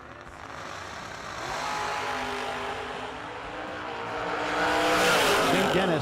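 Drag racing cars, including an Oldsmobile, roar down a bracket-racing track with a loud sustained engine wail that builds and swells toward the end.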